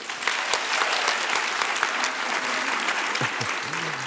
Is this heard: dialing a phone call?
no